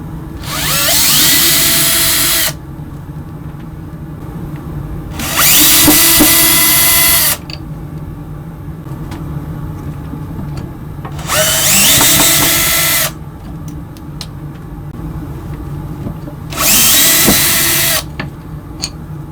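Power drill backing four screws out of a folding table's top and mechanism, four separate loud whirring bursts of about two seconds each, with quiet pauses between them and no talk.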